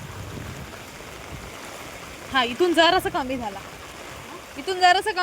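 Rainwater rushes steadily along a flooded street on a rainy day in Alibag, a continuous broadband wash with people talking over it in bursts.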